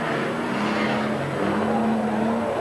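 Stock cars racing at Midvale Speedway in 1980, a steady loud engine roar with tire noise as one car takes a hit to the side, the drone holding throughout without any clear impact standing out.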